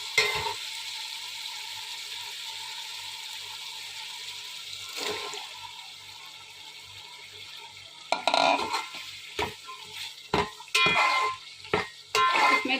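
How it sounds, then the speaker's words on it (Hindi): Chickpeas stir-fry with masala in oil, a soft continuous sizzle with a faint regular ticking, then sharper scraping stirs and clatter near the end, close up with no talking. "इसमें 2-3 मिनट चनों को इसमें अच्छे से भून लेंगे मसाले के साथ"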